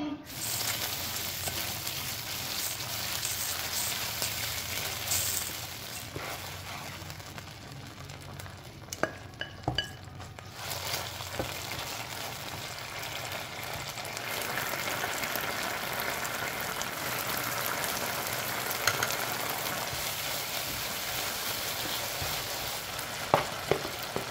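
Shrimp sambal with petai, shallots and garlic frying in a pan at home, a steady close sizzle with stirring scrapes and a few clinks, lasting throughout with no talking.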